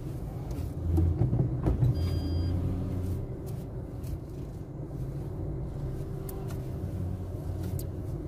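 A car engine hums low and steady while the car edges forward and back to park in a lot at Sarinah. The rumble swells slightly near the start, then settles into an even drone.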